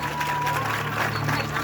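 Audience applause fills a Hindu religious katha recitation by a preacher: dense, steady clapping from a gathered crowd runs unbroken and fairly loud for the whole moment, with no clear speech over it.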